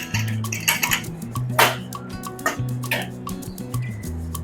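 Metal clanks and scrapes as the lid of a pressure cooker is opened after it has cooled from cooking mixed dal, with several sharp clinks over a low kitchen hum.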